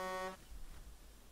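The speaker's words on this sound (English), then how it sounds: "Honk!" A vehicle horn in a video game sounds one loud, steady honk with a buzzy harmonic tone, lasting about a third of a second before cutting off into low engine rumble and background noise.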